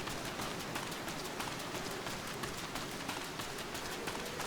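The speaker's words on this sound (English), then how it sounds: "Boy, it's raining here as well." Rain in the game Final Fantasy XIV, a dense, even patter of drops on surfaces with faint rhythmic soft thuds underneath, steady and moderately quiet throughout with no talking.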